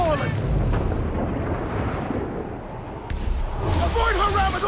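Naval cannon broadside in Assassin's Creed 4: Black Flag, a sustained roaring, rumbling barrage of booms with whooshing debris and sea noise, loud and dense throughout, swelling again near the end.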